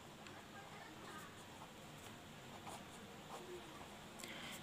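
A pen writes on paper during a geometry lesson on parallelograms, a faint continuous scratching with short strokes, close but very quiet, with low background noise.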